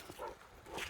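A dog out in a pasture with sheep gives two short, muffled barks a moment apart, fairly faint against open outdoor air.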